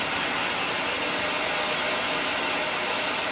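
A Bissell SpotClean Professional 3624 portable carpet cleaner sucks at fabric, giving a steady, loud broadband suction roar that holds constant throughout with no talking.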